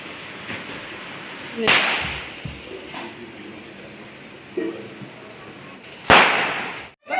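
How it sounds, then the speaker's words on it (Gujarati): Firecrackers burst at a family gathering: two loud, sharp bangs stand out, with a few smaller pops between them and faint voices in the background. "બેન તો ફટાકડા ફોડવા માંડ્યા"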